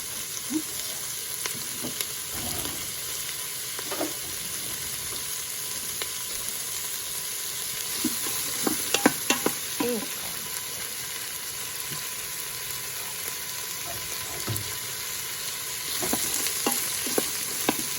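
Vegetables sizzle steadily in a pot as the red wine goes in to deglaze, with scattered clinks and stirring knocks over a constant hiss; no one speaks.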